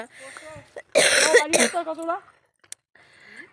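A loud burst of harsh coughing and throat clearing in a group of people, followed by a few quieter rasping coughs, with voices around it.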